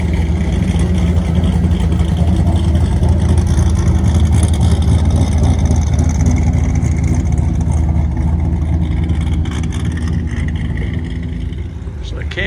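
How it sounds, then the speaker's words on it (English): Engines rumble loudly and continuously as cars race scooters at the Daytona Turkey Run car show, a dense roar of motors with revving, while someone talks over it. "I think those cars are racing those scooters there."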